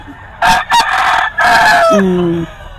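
A rooster at a crowded gamefowl market lets out a single loud, close crow, its drawn-out call ending in a lower trailing note.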